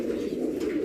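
Racing pigeons coo softly in a loft, a low, continuous burbling murmur that sounds close and steady and carries no talk.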